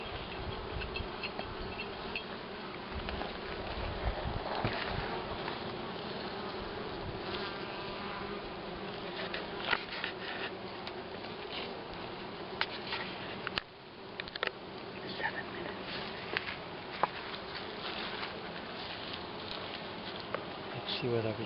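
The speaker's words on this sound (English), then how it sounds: "Many bees." A dense swarm of honey bees buzzes continuously around a sun hive, a close, layered drone with occasional louder passes near the microphone and faint voices in the background.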